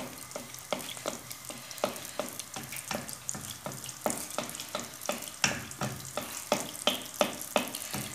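Bread dough frying in hot oil as a spoon repeatedly bastes it, giving steady sizzling crackle with regular sharp splashing scoops, close and fairly loud, no voices.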